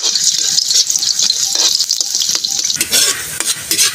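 Garlic sautés in hot oil in a pan for pancit, a loud, close, continuous sizzle with brisk stirring and the clink of the utensil against the pan.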